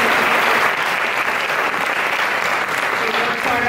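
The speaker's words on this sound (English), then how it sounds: "we'd like to give them a round of applause for first and second grade teachers." A crowd at a fifth-grade promotion ceremony applauds first- and second-grade teachers with a dense, steady wash of clapping that stays loud and even throughout.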